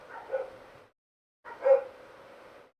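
Dogs bark in two close, fairly loud bursts separated by a short silence, with no one talking over them.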